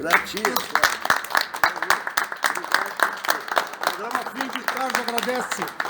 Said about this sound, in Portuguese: Queria dar uma salva de palmas para vocês, para nós encerrarmos esse programa